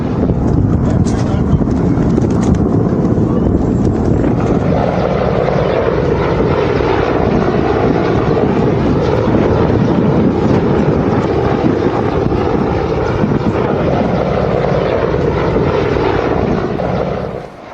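Helicopters and Sukhoi fighter aircraft landing on an Indian expressway, a loud, steady roar of rotor and engine noise with wind buffeting that holds throughout and eases slightly at the end, with someone talking over it.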